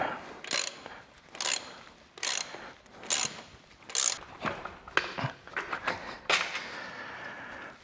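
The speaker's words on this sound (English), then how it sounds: "Okay, we'll start by taking this bottom bolt out." A ratchet clicks in rapid bursts while backing out the bottom bolt of the rear shock on a Ducati Desert X motorcycle, with about ten close, crisp rounds of clicking separated by brief pauses.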